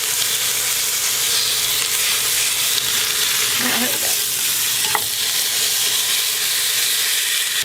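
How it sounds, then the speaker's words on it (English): Beef pieces searing in a hot pan, a steady broadband sizzle running throughout with a couple of brief clicks, loud and close, no talking. "so that the meat can lay down on the bottom of the pan while it's searing"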